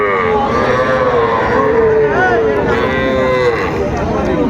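Cattle at a Raniganj livestock market, young bulls and heifer calves, moo loudly and repeatedly, several long overlapping calls from nearby animals, with background murmur underneath.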